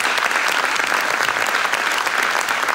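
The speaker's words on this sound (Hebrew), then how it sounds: "גם מחיאות הכפיים בסוף מוענקות להם במגע" A theatre audience at a Nalaga'at deaf-blind ensemble performance claps in a thick, continuous burst of applause, loud and even throughout with no talk over it.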